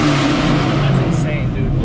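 A Chevrolet Camaro SS with an automatic transmission revs its V8 loudly up close, a deep sustained engine roar filling the cabin, with voices talking over it.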